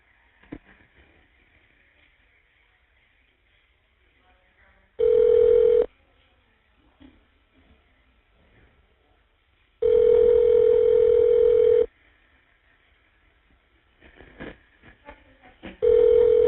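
On a jail phone call, the line is dialed and then rings with long, steady electronic tones repeating at intervals, separated by quiet stretches of faint line noise, with no voices.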